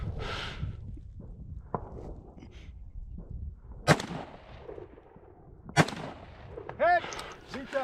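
Two sharp rifle shots crack out at a shooting competition stage in the West Texas high desert mountains, spaced about two seconds apart. Between them come footsteps, shuffling and movement noise, and a short metallic ringing follows near the end.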